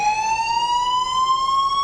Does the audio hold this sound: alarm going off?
yes